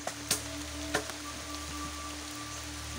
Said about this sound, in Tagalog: Inabot kami ng ulan dito.